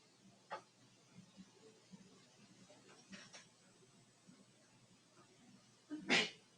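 A single loud, abrupt sneeze near the end bursts out after quiet ticking and faint background noise.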